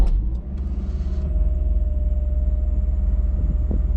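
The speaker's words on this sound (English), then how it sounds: "As soon as it goes green, with enough pressure on the brake, this should start." A 2012 Subaru Legacy engine idling just after push-button start, a steady low pulsing rumble heard from inside the car, with a faint click near the start.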